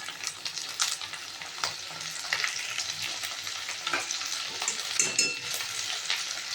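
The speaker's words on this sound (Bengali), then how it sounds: "কিছুক্ষণ নাড়াচাড়া করে নেব" Elephant foot yam curry with salt and turmeric frying in a pan, a close, steady sizzle broken by irregular scrapes and knocks of a spoon as it is stirred.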